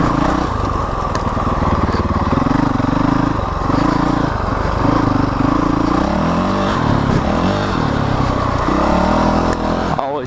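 A Honda CRF 450L dual-sport motorcycle with an FMF Q4 exhaust and a weighted flywheel rides through woods, its engine droning steadily and loud up close, with rising and falling throttle revs throughout.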